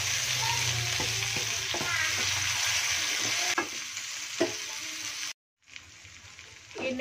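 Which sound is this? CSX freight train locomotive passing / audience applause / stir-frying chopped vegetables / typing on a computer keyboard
stir-frying chopped vegetables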